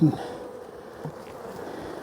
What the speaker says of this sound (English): my bees aren't near as mean as Bracken's bees are. They're not coming out after me.